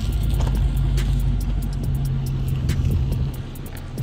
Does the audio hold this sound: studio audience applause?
no